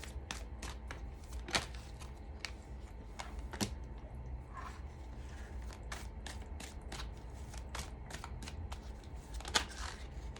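Tarot cards rasp and snap as a deck is shuffled and cards are laid out one after another, a steady run of sharp close slaps and flicks over a soft background hum.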